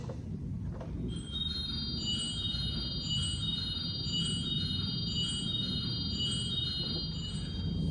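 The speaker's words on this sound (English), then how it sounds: "We have a Cymbelstern." High tinkling cymbelstern bells ring in a repeating pattern over a dense, sustained low pipe organ drone, steady and reverberant throughout.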